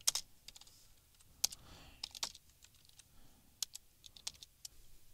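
Computer keyboard keys clatter in quick irregular bursts while jQuery script code is written, close and fairly quiet, separated by short pauses.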